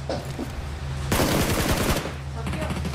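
Rapid automatic gunfire from a shooting video game rattles out in a dense burst of shots, loud and close, over a steady low game hum before and after.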